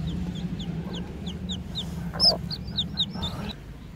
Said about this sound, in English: I hear more tweeting.